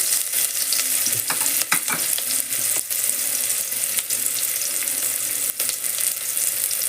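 Thinly sliced onion fries in hot oil, a loud steady sizzle close by, broken by scraping stirs and occasional clatters.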